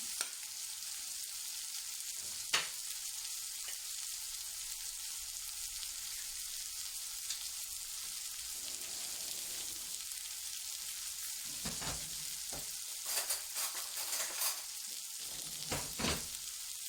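An egg fries in a hot pan for Singaporean-style egg fried rice, a steady bright sizzle running throughout with a few sharper crackles and spatters toward the end, no voices.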